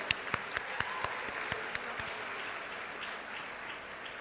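A university convocation audience claps, with a handful of sharp, evenly spaced claps standing out over a soft, steady wash of applause that continues to the end.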